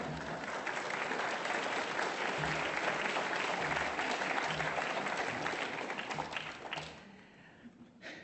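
Audience applause welcoming Professor Jack Heinemann, dense and steady from a full room for about seven seconds, then thinning out to a few scattered claps.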